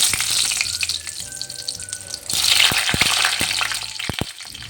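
Pabda fish curry with mustard and poppy seed cooking in a pan, a steady frying sizzle with bursts of watery gushing and clatter, close and fairly loud, no voices.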